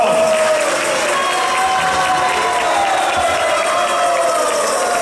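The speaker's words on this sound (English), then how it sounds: "Please give them a big round of applause." A temple audience applauds and cheers after a Hare Krishna kirtan performance, a dense, steady wash of clapping and crowd noise with some voices mixed in throughout.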